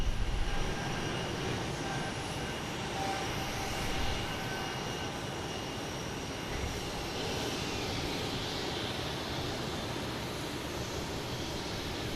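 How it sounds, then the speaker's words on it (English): Jet airliners taxiing and taking off at Boston Logan airport, a steady broad roar of engines heard at a distance throughout, without talk. "there's about 15 planes in line before that Nantucket flight takes off"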